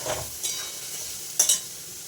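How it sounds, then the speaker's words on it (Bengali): Ground spices with ginger paste, coriander powder, salt, turmeric and a little sugar frying in a pan, heard as a low steady sizzle broken by two or three brief sharp scrapes of stirring. "এবার দেবো আদা বাটা দিয়ে ধনের গুঁড়ো এবার পরিমাণ মতো লবণ হলুদ একটু মিষ্টি দিয়ে ভালো করে কষাবো"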